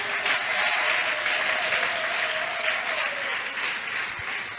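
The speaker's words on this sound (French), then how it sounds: "Est-ce que nous pouvons encore acclamer une fois de plus?" A church congregation applauding: steady, loud clapping from a large crowd, sustained throughout with a faint tone running underneath.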